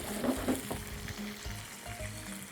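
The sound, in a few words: chicken frying in a pan with sauce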